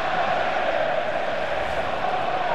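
Steady, dense roar of a virtual stadium crowd reacting to an offside call during a FIFA 15 match between Borussia Dortmund and FC Barcelona on Xbox One, a continuous loud wash of voices with no distinct peaks.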